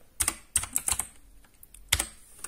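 A Gametech Black Rider gaming keyboard with blue switches clacks under quick, irregular keystrokes, each sharp, close click standing out in short bursts with small gaps between them.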